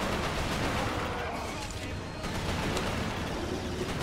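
Sustained gunfire in the video game Resistance: Fall of Man, a dense, continuous loud barrage of shots and blasts filling the whole stretch, with a player's voice talking over it.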